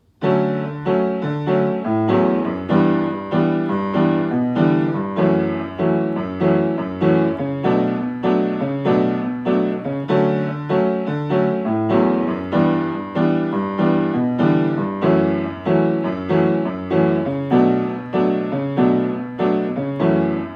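Solo piano plays the bridge of a song at a slowed tempo, close and clear, with evenly pulsed chords struck in a steady rhythm throughout.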